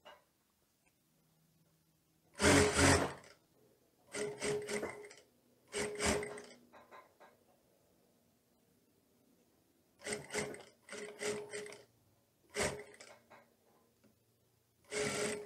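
Sewing machine stitching the sleeve seam of a Teddy coat on the wrong side of the fabric, heard in about six short bursts separated by quiet pauses, fairly close and with no talking.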